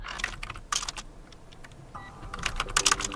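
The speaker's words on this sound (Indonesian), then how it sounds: "Jadi kita harus mengetik insert ke dalam query" An SQL insert query is typed on a computer keyboard in phpMyAdmin: quick bursts of close key clicks, then a pause, then a faster run of taps near the end.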